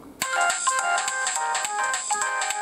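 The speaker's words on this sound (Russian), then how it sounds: "Вот такие вот у нас мелодии на телефончике." A Motorola Razr V8 Luxury Edition phone plays its Moonlight ringtone, a bright electronic melody of repeated tones that starts suddenly and runs steadily, close and clear, with no voices.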